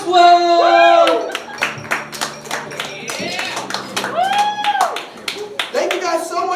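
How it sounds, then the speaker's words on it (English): Studio audience applause and whooping at a late-night talk show, bursts of clapping mixed with loud cheering voices and a host talking over the crowd. "Give yourselves a round of applause."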